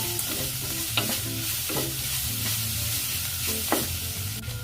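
Chopped onions fry with ginger garlic paste in a pan for chicken masala, sizzling steadily up close while a utensil stirs and scrapes in several distinct passes.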